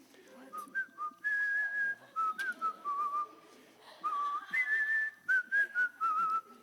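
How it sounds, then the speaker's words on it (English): Someone whistles a lilting melody in short phrases with brief pauses, fairly close and clear against a quiet background. "I can entertain you with a whistling solo"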